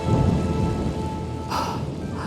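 Steady rain in Genshin Impact hisses with a low rumble underneath, a dense continuous downpour with a brief swell of noise partway through and no talking.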